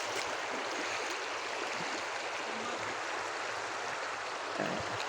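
River water flows in a steady, broad, hissing rush that stays even throughout, with no voices over it.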